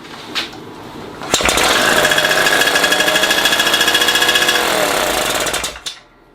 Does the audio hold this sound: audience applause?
no